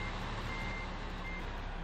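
A Ford dump truck in Farming Simulator 15 reverses on a farm, its engine droning steadily while a high reversing beep sounds along with it. The tone is continuous and fairly loud, with no talking.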